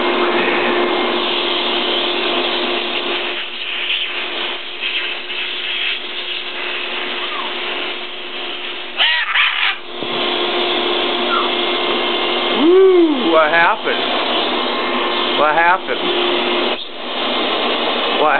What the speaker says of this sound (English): Here's a vacuum cleaner.